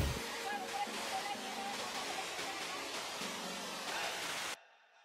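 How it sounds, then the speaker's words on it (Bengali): A monsoon-swollen waterfall dropping about 30 feet onto rocks, a loud, constant rushing roar filling the scene while a person talks over it, cutting off abruptly near the end. "প্রায় 30 ফুট উঁচু থেকে জলটা যখন নিচে পড়ছে পাথরের ওপর"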